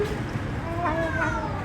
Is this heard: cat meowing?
yes